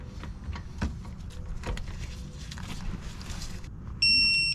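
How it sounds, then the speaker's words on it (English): A digital torque wrench on the front brake bolts of a Silverado High Country sounds a sharp, steady electronic beep near the end, after a few quiet mechanical clicks and shop ambience. "now we're going to torque these down right here, and these torque to 174 foot-pounds"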